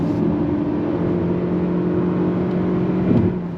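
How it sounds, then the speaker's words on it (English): A 2025 Toyota Camry LE hybrid accelerating from a roll, heard as a steady, loud interior drone of engine and road noise with a sustained hum that rises slightly toward the end. "let's go on throttle from a roll"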